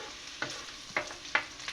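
Garlic frying quietly in a pan for lunch, with a soft background sizzle broken by four light clicks of a spatula stirring at a steady pace.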